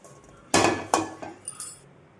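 A metal cooking pot is set down on a stove, giving two sharp clanks and then a few lighter clinks of metal on metal, close and fairly loud against a quiet kitchen.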